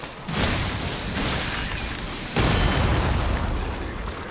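Cannon blasts boom in the video game Lies of P, several loud heavy explosions layered over continuous rumbling, with a sharp new impact midway.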